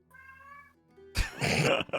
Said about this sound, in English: Do you guys hear a cat?